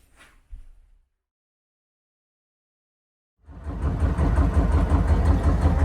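Narrowboat engine on a holiday cruise: after a few seconds of near silence, a low, throbbing diesel rumble kicks in and keeps running steadily, close and fairly loud.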